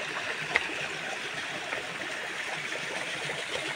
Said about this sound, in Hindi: दोस्तों ये झरना बहुत प्यारा सा झरना है